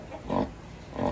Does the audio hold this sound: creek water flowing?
no